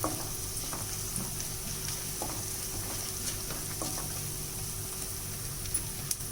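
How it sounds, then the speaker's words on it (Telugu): Cashews fry in hot oil for tomato rice, making a soft, continuous crackling sizzle at close range with faint bubbling and no talk. "ఇందులో కొంచెం జీడిపప్పు వేసుకున్నాం."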